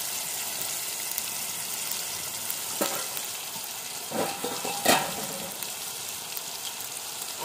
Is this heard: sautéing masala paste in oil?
yes